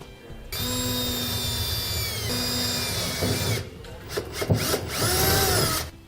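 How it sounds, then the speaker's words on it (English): Small drill bit boring a pilot hole for a gooseneck trailer hitch installation on a 2015 Chevrolet Silverado 2500, a steady whining drill run with brief pauses and bursts near the end, close and loud with no talking. "Next, we'll take a small drill bit and we're going to drill a pilot hole."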